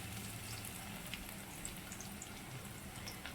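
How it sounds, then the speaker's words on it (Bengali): Chopped onions and garlic frying in a pan for a lentil curry, a steady close sizzling hiss with faint crackles throughout and no pauses. "পেঁয়াজগুলো আমি লাল লাল করে ভেজে নেব"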